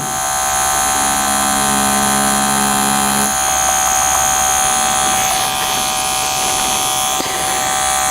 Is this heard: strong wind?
no